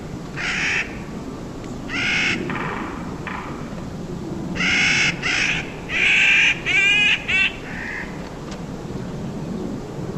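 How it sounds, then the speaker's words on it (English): Bird calls of a mother and a juvenile begging to be fed, a series of harsh, crow-like caws in short bursts over steady outdoor background noise, some calls clustered rapidly together. "you can hear the call and response of a mother and a juvenile wanting to be fed"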